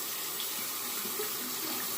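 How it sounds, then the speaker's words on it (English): An aluminum safety razor is rinsed under a running tap, producing a steady, fairly soft rush of water splashing into a sink for a couple of seconds, with no talking. "actually I'm just going to rinse the razor and re-lather."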